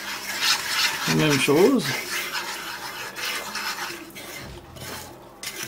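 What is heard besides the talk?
stirring butter and flour for brown sauce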